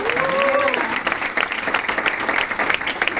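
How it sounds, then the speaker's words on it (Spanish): Clapping from an audience at an acoustic concert in Sala R N´B, Zaragoza, a steady patter of many hands with a faint crowd murmur and a brief tonal sound early on. "un fuerte aplauso para José Ibáñez."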